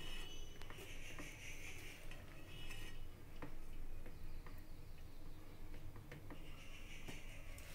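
Cooked rice is tipped from a metal spoon into a pot of chicken biryani with ghee and biryani masala, giving close, steady clinks and scrapes of metal on metal with no voices.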